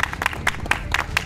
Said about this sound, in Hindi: मैं एक जोरदार तालियां पहले चाहूंगा